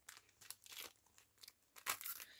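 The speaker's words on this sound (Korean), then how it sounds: "바로 두 번째 팩 오픈" A Pokémon card booster pack is torn open by hand, with sharp crinkling foil wrapper sounds in short bursts and one louder tearing rip, close and alone.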